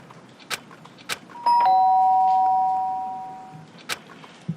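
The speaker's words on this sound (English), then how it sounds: "The sharp sound of the doorbell pierced my sleepy haze and pulled me back to the real world." A doorbell rings once in the Danganronpa video game, a bright chime that sounds sharply and then fades slowly over about two seconds. Faint game ambience and soft clicks surround it.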